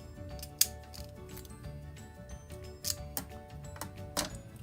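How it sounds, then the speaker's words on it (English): Fiskars scissors snipping paper for a cupcake-shaped craft piece, a few sharp, quiet cuts spaced irregularly over a faint background hum. "you're going to need your fiskar scissors so it looks like a cupcake"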